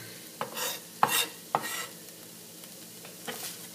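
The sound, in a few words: onions sauteing in a pan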